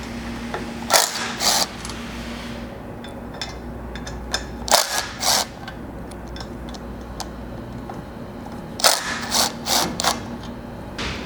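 A wrench pulls old bolts out while a roof rack grab handle is installed. Small clusters of sharp metallic clicks and taps come at irregular intervals over a steady low background hum.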